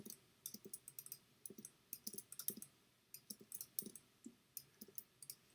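Quick paired clicks of a computer mouse button, repeated in an irregular rhythm as edges and shapes are selected one after another, close and crisp with no talking.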